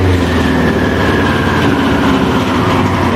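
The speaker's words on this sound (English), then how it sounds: "So when I rev up the bike," A Yamaha YZF R6 motorcycle engine with carburetors needing sync runs loud and close, a dense throbbing roar held steady throughout without clear rises, alone with no talk.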